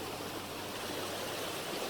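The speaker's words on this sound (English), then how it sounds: "And we're gonna find a waterfall." A waterfall on a rainy forest hike roars as a steady, dense wash of rushing water, loud and even with no break.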